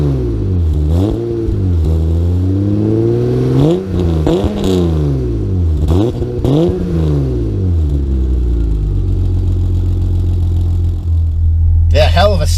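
A 1988 BMW iX with an aftermarket exhaust revs repeatedly, each throttle blip rising and falling in a deep rumbling growl, then settles into a steady low idle, loud and close throughout.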